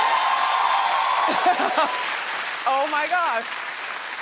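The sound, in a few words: studio audience clapping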